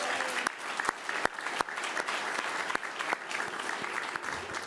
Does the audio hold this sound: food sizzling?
no